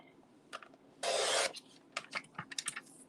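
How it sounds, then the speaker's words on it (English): A paper trimmer slicing through cardstock while making a card, a single steady rasping cut of about half a second, close and clear, with a few light taps and shuffles around it. "I'm just going to bring in my trimmer here. And we're just going to trim this off."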